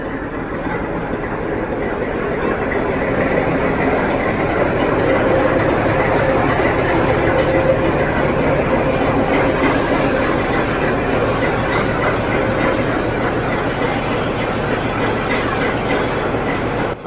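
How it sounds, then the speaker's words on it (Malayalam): YDM 4 metre-gauge diesel locomotive from Ponmala shed hauling a train between Ooty and Coonoor in the Nilgiris, a continuous rumbling run with rhythmic wheel clatter and engine drone, heard from on board. "പൊന്മല ഡീസൽ ലോക്കോ ഷെഡിൻ്റെ കാണുന്ന YDM 4 ഡീസൽ ലോക്കോയിലാണ് ഇന്ന് നമ്മൾ ഉദകമണ്ഡലം തൊട്ട് കൂനൂർ വരെ യാത്ര ചെയ്യുന്നത്."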